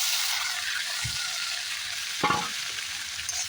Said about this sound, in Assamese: এইখিনি অলপ ভাজি ল'ম।